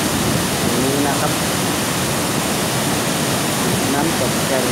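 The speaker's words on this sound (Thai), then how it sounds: "น้ำตกแก่งโสภาครับ ครับความอลังการของน้ำตก นี้ครับ" Kaeng Sopha waterfall in the late rainy season roars as a steady, loud, broadband rush of falling water, continuous and unbroken throughout.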